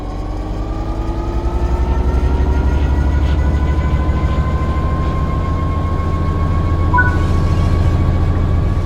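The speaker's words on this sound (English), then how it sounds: "Apply some throttle to get the train moving." A train in Train Sim World 3 accelerating under throttle, a steady loud low engine drone with rising whining tones as it gathers speed, and no talk.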